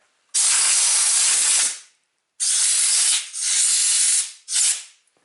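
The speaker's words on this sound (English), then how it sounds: "I'm just blowing around the perimeter" Three bursts of compressed air hissing loudly around a Subaru wheel hub, a long blast, a pause, then two more blasts close together, nearby and with no talking.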